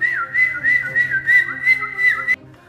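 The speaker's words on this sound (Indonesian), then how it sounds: "Kemudian didengarnya lagi suara suitan." A clear, loud whistle sounds as a storytelling sound effect, a series of short rising-and-falling chirps in quick rhythm, alone with no talk, then cutting off into quiet.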